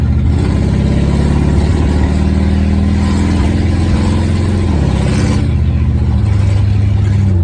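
A 1968 Lincoln Continental V8 with Holley Sniper fuel injection accelerates, a loud, deep steady engine drone heard from inside the car, with a brief shift in pitch midway as it changes gear.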